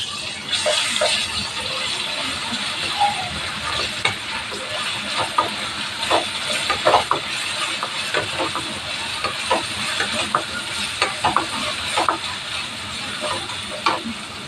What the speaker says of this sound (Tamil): இதில் இஞ்சி பூண்டு பேஸ்ட்டு 1 ஸ்பூன் போட்டுடலாம். 1 ஸ்பூன் இஞ்சி பூண்டு பேஸ்ட்டு போட்டுடலாம். அதையும் நல்லா வதக்கி விட்டுடலாம்.